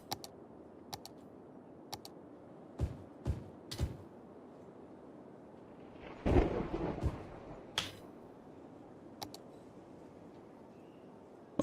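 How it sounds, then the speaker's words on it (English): Thunder rumbles in a Cities: Skylines city-building game, a broad burst near the middle swelling over a low background hum, with sharp clicks scattered before and after. "I figured out why I had my thunder sound and the beep"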